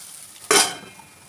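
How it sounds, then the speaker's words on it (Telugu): Egg curry ingredients frying in a pan: one short burst of sizzling and stirring about halfway through, loud for a moment and then fading into a quiet background. "దీన్ని బాగా వేగనీయాలి."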